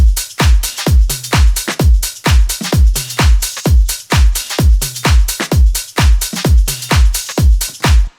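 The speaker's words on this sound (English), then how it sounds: "So a little conga, but in the groove they sound like this" Conga sample from a house percussion library locks into a house groove, a steady run of loud, punchy hand-drum hits with deep low thumps repeating in a tight rolling rhythm, no voices.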